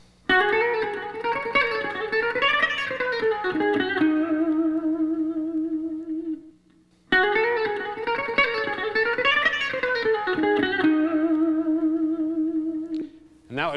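A guitarist plays a fast electric guitar phrase, a flurry of bright, effected notes with reverb, played twice with a short gap between the two passes.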